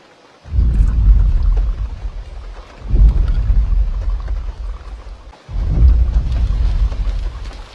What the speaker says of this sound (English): All I'm hearing is the rain.